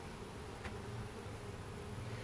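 A low, steady buzzing of a bee swarm being moved into a hive, faint and continuous throughout, with no voices.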